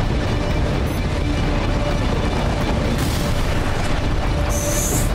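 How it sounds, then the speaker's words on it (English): Missiles explode in a barrage during Armored Core VI combat, with a dense, continuous rumbling roar of blasts and a few sharper bursts near the end, loud and close. "Just missiles everywhere."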